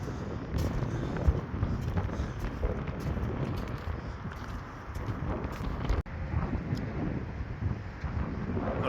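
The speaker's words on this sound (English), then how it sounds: "A lovely bit of wind tonight." Gusty night wind blows outdoors in an industrial estate, buffeting the microphone in continuous rough bursts that rise and fall, fairly faint and with no talk.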